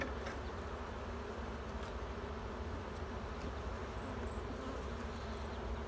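Honey bees swarm around an open beehive with honey supers, a steady, dense buzzing hum that stays loud and close throughout, with no talk over it.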